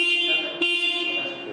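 Horn of a Benelli Imperiale 400 motorcycle, a steady bright electric toot held for about a second and a half with a brief dip partway through, close and loud with no talk over it.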